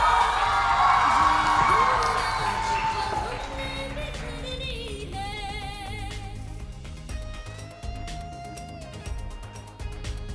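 Loud applause and cheering rise from the audience at a Bollywood-style dance competition elimination round, filling the first few seconds before thinning out as music with bright tones takes over.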